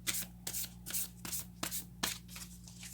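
Tarot cards are shuffled by hand in a series of quick riffling bursts, about six separate close, crisp flutters, each paper rustle followed by a brief pause, with a low steady hum underneath and no one speaking.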